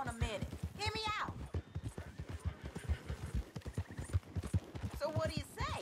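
Galloping horse hooves in Red Dead Redemption 2, a steady clip-clop running under near-continuous male conversation between riders, with a brief whinny-like tone near the end.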